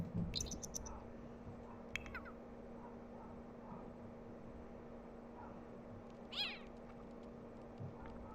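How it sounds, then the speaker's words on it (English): A stray cat meows a few times, faint and somewhat distant, with short high cries near the start, middle and later, over a low steady hum and quiet background. "But I'm trying to adopt this stray cat here."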